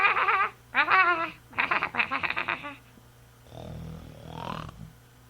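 A voice mimics snoring for a sheep in a children's story, with a few rasping, throaty snore imitations in quick succession, close and fairly loud, followed by a softer breathy stretch.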